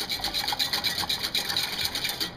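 A whisk scrapes rapidly around a bowl of dissolving peach jello, producing a steady, rhythmic swishing and rasping beat that repeats several times a second throughout.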